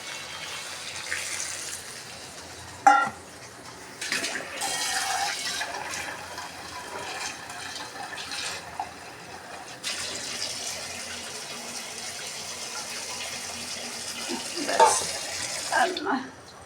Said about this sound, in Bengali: এই তো আমি ঝোল দিয়ে দিলাম।